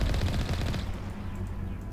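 Rapid automatic gunfire in the Mass Effect video game, a dense burst of loud sharp shots that thins out into a rumbling tail.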